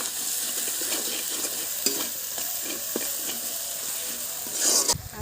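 Spice paste with tomato frying in a pan while being stirred, a steady sizzle broken by scraping strokes of a spoon, with a sharp metallic clink near the end.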